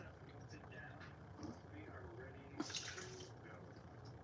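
Water poured into a mung bean mixture for vegan eggs, a brief splashing burst near the middle over steady background kitchen noise.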